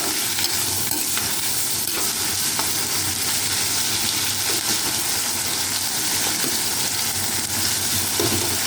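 Mushrooms sautéed in a clay pot until golden brown, giving a steady close sizzle with scraping stirs throughout, with no talking.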